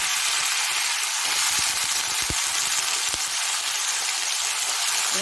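Potatoes fry in hot oil with panch phoron and two green chillies, giving a loud, steady, dense sizzle that runs unbroken throughout, with a couple of faint clinks underneath.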